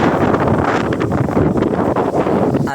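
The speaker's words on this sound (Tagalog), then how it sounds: "dito nga pala sa may taas, napakalakas ng hangin, kaya sobrang lamig talaga" Strong wind blows across a snowy mountain slope at a ski area in Poland, a loud, continuous roar that buffets the microphone with gusty rumbling throughout, and no talking.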